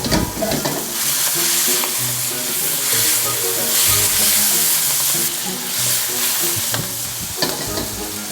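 Prawns fry in a hot pan with an intense, continuous sizzle and crackle, close and loud, with occasional stirring and scraping, as for a Japanese-style yakimeshi fried rice.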